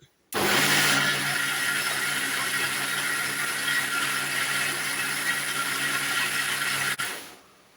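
An electric blender whirs steadily through eggless cake batter with baking powder, baking soda and instant coffee powder. It switches on abruptly, holds a constant loud motor drone for about six and a half seconds, then cuts off and winds down.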